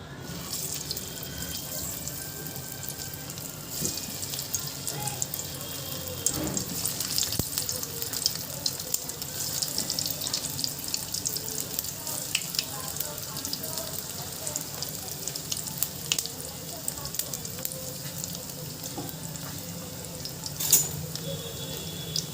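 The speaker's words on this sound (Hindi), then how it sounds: "देखिए हमने नाश्ते को फ्राई करने के लिए ऑयल को गर्म कर लिया है। तो नाश्ते को उसमें डाल देते हैं।" A bread and potato snack frying in hot oil: a steady, faint hiss with soft crackles and occasional louder pops running on continuously.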